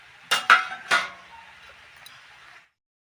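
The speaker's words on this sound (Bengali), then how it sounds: "ভাজা করে রাখা ব্রকলি আর আলু একসঙ্গে দিয়ে আবার মিশিয়ে নেব, সুন্দর করে মিক্স করে নেব।" A spatula clinks and scrapes against a pan a few times while fried broccoli and potatoes are mixed together, three quick metallic hits followed by softer stirring that fades out.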